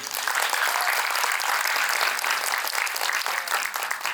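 A college audience in Mumbai applauds steadily for three performers at a comedy show, a dense, sustained wash of many hands clapping close and loud with a faint voice underneath.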